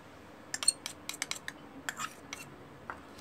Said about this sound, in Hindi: तो मैं दही में डाल दूँगी संदल पाउडर।